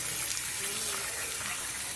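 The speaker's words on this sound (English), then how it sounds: "turn the water on, just flush it around" Water rushing and sloshing inside an RV's freshwater tank as it is flushed to stir up sediment, a steady broadband gush that runs continuously and fairly close, with no voices over it.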